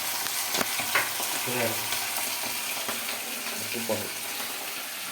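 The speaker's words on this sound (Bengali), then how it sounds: "এবার এক এক করে আমরা সব মাংসগুলো ভেজে নেবো" Marinated chicken pieces fry in a kadai for chicken biryani, giving a steady, close sizzle and crackle throughout, with occasional soft stirring clatter.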